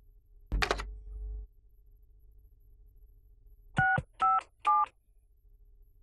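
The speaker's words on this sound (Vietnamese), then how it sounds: "Không cần, gọi điện thoại đi." Telephone keypad tones as a number is dialed: a short thunk, then three quick, clear touch-tone beeps in a row, fairly loud in a quiet office room.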